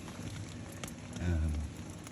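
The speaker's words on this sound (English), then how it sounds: "torrential rain." Torrential rain drums steadily on a backpacking tent during an Appalachian Trail thru-hike near Blood Mountain, a dense continuous patter close overhead with a brief heavier gust of noise midway.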